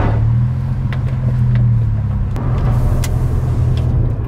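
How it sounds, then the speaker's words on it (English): A BMW running an MHD tune rumbles along the road with a deep, constant exhaust drone, with a few faint pops and crackles of burbles scattered through the steady engine noise. "first up I will try the Burbles and drive"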